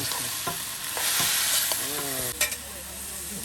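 Chopped pumpkin and potato are fried hard with garlic, onion and green chilli in an outdoor pan, giving a steady loud sizzle under repeated scraping stirs.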